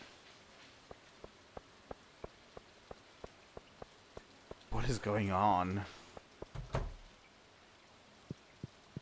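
Rain falls in Stardew Valley as faint, evenly spaced drop ticks over a quiet background, briefly interrupted by a voice.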